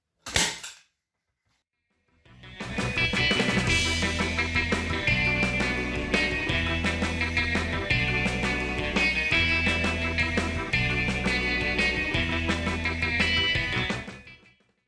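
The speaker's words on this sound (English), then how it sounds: "Do not staple over the short edge fabric, just staple right up next to it." Staple gun driving staples through fabric onto a table top ironing board, one snap at the start, then a long run of rapid, crisp clacks close by.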